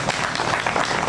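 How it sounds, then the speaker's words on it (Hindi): An audience at a Hindi poetry gathering at a fair claps in honour of a guest, a short burst of many hands that is close and fairly loud, with no voice over it. "एक बार इनके सम्मान में तालियां"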